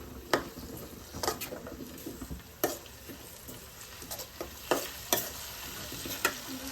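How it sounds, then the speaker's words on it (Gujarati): Tomato sautéing in a pan for poha: a soft continuous sizzle with intermittent scraping and clinks of a spatula stirring, close up and without voices. "પછી આપણે નાખીશું ટામેટું. બધું બરાબર સાંતળવા દઈશું."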